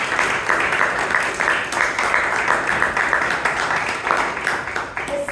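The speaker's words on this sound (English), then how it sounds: "A huge round of applause to every single person who came here on stage today" An audience at a Toastmasters club meeting in Bangalore claps steadily for the speakers, a dense, even applause from a roomful of people that holds for several seconds without pause.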